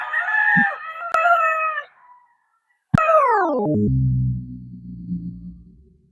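A gamefowl broodcock crows close and loud, giving a brief call and then a long falling cock-a-doodle-doo that trails off into low clucking. No voices are heard.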